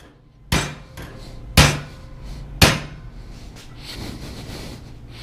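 Stainless steel wire is hammered around a piece of pipe to form a D-ring, three sharp metallic strikes spaced about a second apart, followed by lighter tapping and scraping.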